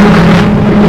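A historic Formula Ford race car at Donington Park drones past with a loud, steady engine note that holds for the whole second. No one speaks over it.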